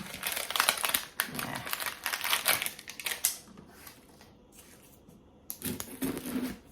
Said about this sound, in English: So I'm just gonna cut it this way.